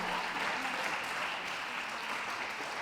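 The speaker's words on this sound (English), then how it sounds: "A round of applause, please," Steady applause from a crowd at a championship dog show, continuous and fairly loud throughout.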